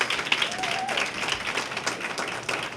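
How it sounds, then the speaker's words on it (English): Audience applause for former board members at a community center ribbon-cutting and re-opening ceremony: a steady, moderately faint patter of many hands clapping, with a thin tone drifting through the crowd sound. "I'd like our former board members to stand for a well-deserved round of applause"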